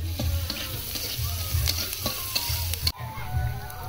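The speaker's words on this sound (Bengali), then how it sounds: "আসলে কালিজিরা কি ভাজা হয়েছে" Black cumin seeds and dried red chilies fry in hot oil with a crackling, bubbling sizzle, while a utensil stirs and clinks against the pan at a close, steady level with no voices.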